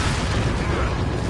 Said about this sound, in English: let me throw out a frag